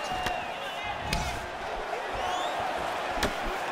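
Arena crowd noise from a UFC 4 video game bout between Greene and Masvidal: a steady, dense roar of spectators with sharp thuds of strikes cutting through at intervals, rising into reactive bursts.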